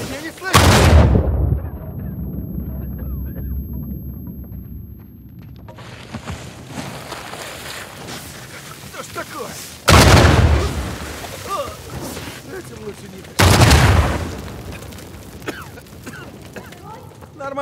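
Loud explosions and gunfire burst out in the video game Uncharted 4, with three heavy booming blasts spread across the stretch and a low rumbling, clattering din between them. Voices are heard in the background.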